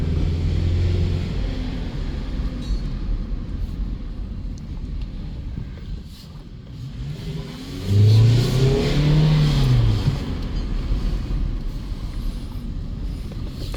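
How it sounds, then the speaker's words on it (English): A 2005 Toyota Camry with an automatic transmission accelerates, its mid-pitched engine hum rising steadily under wind buffeting, then swelling louder around the middle as the revs climb and shift through the gears. "So the engine feels good. And the transmission shifts."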